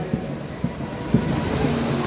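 Steady rain patters across an outdoor police passing-out parade ground, with a few soft low thumps rising above the wash of falling water at moderate level.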